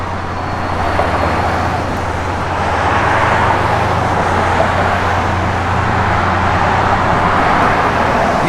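A 1970 Chevrolet Chevelle SS rolls down the road, its steady, loud engine and tire roar with a low rumble running continuously throughout, no voices over it.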